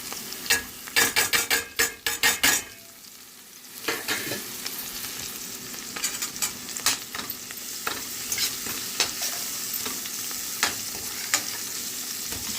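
Spices such as turmeric, garam masala, cumin and fenugreek powder fry in hot oil for a ridge gourd moong dal, with sharp spoon-scraping clicks at the start giving way to a steady, close sizzle.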